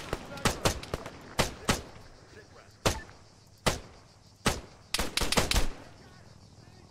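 Gunfire in the Arma 3 game, a sniper shot among the bursts: sharp broadband cracks at irregular intervals, some single and some clustered into rapid volleys near the end, loud and close with no talk over them.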